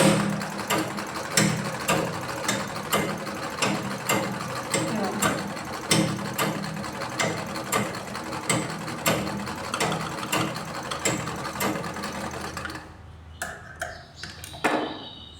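A pico fall sewing machine stitches thread in quick, evenly spaced mechanical clicks and whirring beats that run steadily for most of the stretch, then stop near the end, leaving a few scattered taps and faint handling noises.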